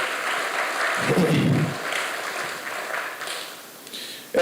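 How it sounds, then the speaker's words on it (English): Audience applause at a launch and ribbon-cutting ceremony, a broad wash of clapping that peaks early and slowly fades, heard at moderate distance and without talk. "Let's have another round of applause for Provost Ward."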